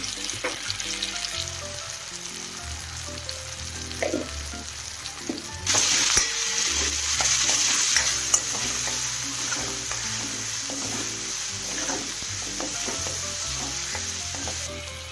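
Masala with tomato and chilli powder fries and sizzles in a pan while being stirred. A steady crackle runs throughout, with a louder, hissier surge midway and repeated scraping stirs.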